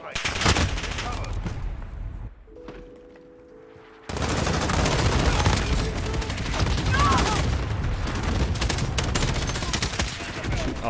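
Video game gunfire in sustained rapid bursts, with a short quiet break before the shooting resumes loud and close, and a voice talking over it.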